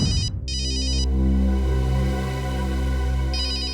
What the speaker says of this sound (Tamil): அநேகமா இது அகிலோட போனா இருக்கலாம். எடுங்க.